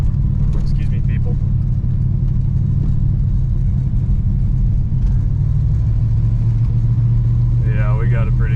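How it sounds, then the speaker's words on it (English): A 1966 Pontiac Grand Prix barn find idles with a deep, steady burble close by, and a voice speaks briefly over the engine's constant loud rumble. "Yeah, we got a pretty good burble."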